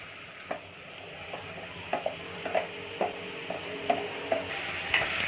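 Chopped tomatoes sizzling in a pan while a spoon stirs them, with regular scraping knocks against the metal every half second or so.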